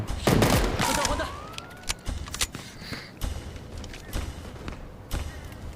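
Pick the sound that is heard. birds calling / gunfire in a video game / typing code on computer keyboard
gunfire in a video game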